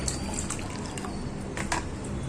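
Boiled water being poured from a vessel into a bowl of ground green mango, making a faint, short trickling and splashing sound close by, heard alone.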